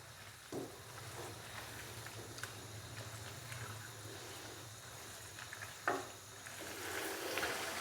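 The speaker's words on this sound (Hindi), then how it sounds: "और चिकन को मसाले के साथ भून लेंगे 4 से 5 मिनट के लिए।" Chicken pieces fry in a pot with spices for an arvi chicken curry, giving a continuous soft sizzle with occasional scraping knocks as the mixture is stirred.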